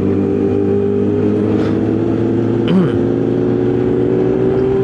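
A truck drives by on a road, its engine a steady droning rumble with a brief rising whine as it passes close, loud throughout and with no clear talk over it.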